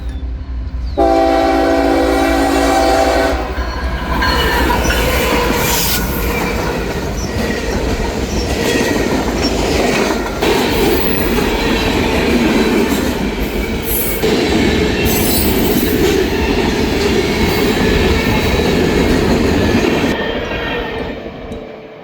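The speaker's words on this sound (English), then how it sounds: "the first train we would catch would be a CSX mixed freight on its way eastwards" A CSX mixed freight train passes eastbound at Pittsford, New York, opening with a loud horn blast, then a close, continuous roar of rolling cars, wheel squeal and rhythmic clatter that fades only at the end.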